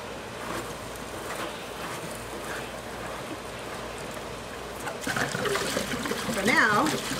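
Backwash water from a pool DE filter drains out to waste in a steady, splashing trickle that swells louder near the end.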